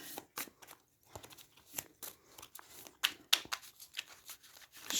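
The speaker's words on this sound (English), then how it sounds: "Shuffle, shuffle." Tarot cards being shuffled by hand, a quiet series of crisp riffling and flicking bursts in irregular rhythm with short pauses between, close and alone without talk.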